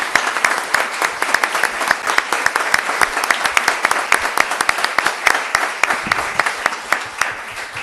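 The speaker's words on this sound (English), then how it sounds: "Let's have an applause for the candidates." A candidate forum audience applauds the candidates with loud, sustained clapping from a sizeable crowd, crisp individual claps standing out within a thick, continuous patter.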